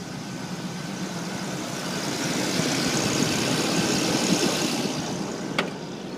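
A 1981 Chrysler Imperial Frank Sinatra Edition idles steadily just after starting, a continuous close engine rumble that swells slightly midway, with a sharp click near the end.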